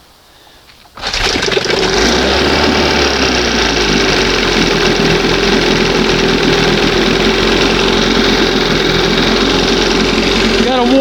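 A 1971 Johnson 20 HP outboard motor cranks, then catches and runs at a loud, steady, buzzing idle that fills the rest of the recording.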